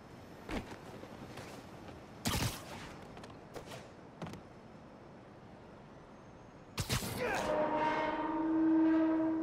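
Train on the tracks in the video game Spider-Man: Miles Morales, a few sharp clanks and thuds, then a sustained horn-like tone that swells near the end.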